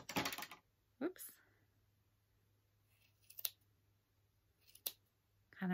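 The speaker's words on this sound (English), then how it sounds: "Kind of make it look a little more symmetrical here. Snip, snip, snip." Scissors snip around a yarn pom-pom to trim it into shape: a few sharp, isolated cuts spaced a second or so apart, near and clear against quiet room tone, with brief speech at the start.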